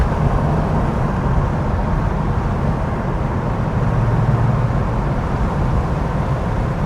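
A 1988 Porsche 911 pulls hard at full throttle, a loud, steady, dense engine and road rumble that holds without a break.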